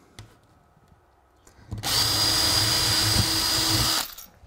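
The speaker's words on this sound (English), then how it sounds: "quick whiz with a drill" A power drill whines loudly for about two seconds, a steady high-pitched spin biting into a wooden model railway baseboard, starting abruptly and cutting off cleanly.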